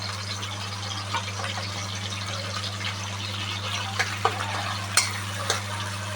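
Onion, small shrimp and a taki fish head fry in a pan, a steady close sizzle with occasional stirring scrapes and light clicks over a constant low hum, no speech.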